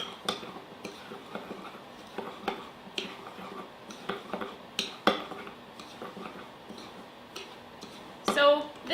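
Spoon clinking and scraping in a bowl as a homemade body scrub with a few drops of essential oil is stirred, with irregular light taps and a brief rattling burst near the end.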